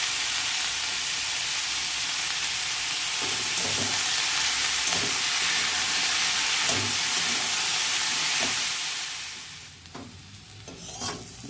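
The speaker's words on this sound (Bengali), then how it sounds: "আমার আলু আর করলা দুটোকেই একসঙ্গে ভেজে নিয়েছি" Potatoes and bitter gourd with salt and turmeric frying together in a pan, a steady loud sizzle and hiss with soft periodic stirring scrapes, quieting near the end as the heat settles.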